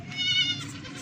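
A Rajanpuri goat gives a single nasal bleat, close and moderately loud, rising and then trailing off, with no talking.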